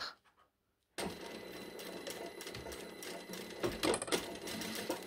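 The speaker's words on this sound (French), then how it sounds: "Et on va piquer à 1 cm." A sewing machine stitches steadily through fabric and its lining, taking a 1 cm seam. It starts after a short silence and hums at close range with a continuous rhythm, and a few light clicks fall near the end.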